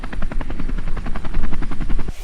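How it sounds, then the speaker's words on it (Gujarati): A loud, close helicopter with rapid rhythmic rotor thumping that continues steadily, then cuts off abruptly at the end. "હવે આમાં મારે હેલિકોપ્ટર ઉતારવું શ્યાં?"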